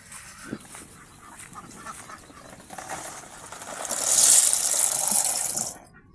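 Ducks dabble and quack softly near water as they are fed snails, while water is poured around them, building to a louder rushing splash before stopping.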